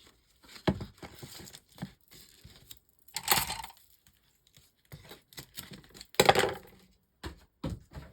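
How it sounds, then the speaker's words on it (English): Foam tape for card making is pulled out and handled, giving close crinkling, crackling and tearing bursts with short quiet gaps between them. "Let's get our foam tape out."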